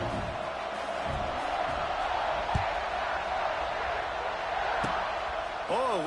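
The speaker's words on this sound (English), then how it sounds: "this crowd is buzzing after that last score" A football stadium crowd buzzes with a steady, dense roar after a playoff score, loud and continuous throughout, with a commentator talking over it.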